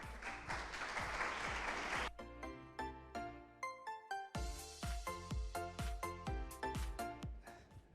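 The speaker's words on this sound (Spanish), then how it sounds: "un aplauso, por favor" An audience at an education congress claps loudly for about two seconds, then the applause gives way to bright, rhythmic music with sharp percussive hits.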